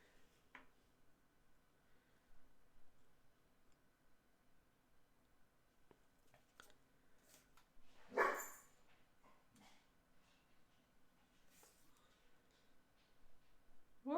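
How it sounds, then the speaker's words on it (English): A single faint dog bark sounds partway through, set in a quiet room with soft scattered background noises and no talking. "What was that bark, Keekster?"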